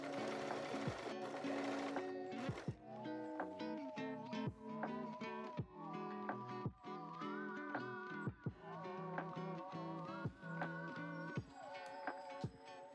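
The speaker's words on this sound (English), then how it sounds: "I am gonna zigzag stitch because again it's elastic and go as close as I can." A sewing machine zigzag-stitches elastic lace in a steady, close run of rapid needle chatter, pausing and restarting several times as the stitching continues without speech.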